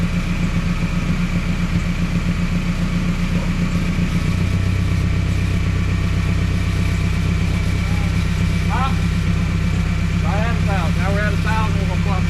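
A Toyota engine idles steadily at about 1,000 RPM, a loud, even mechanical hum that settles lower partway through, with faint voices briefly toward the end.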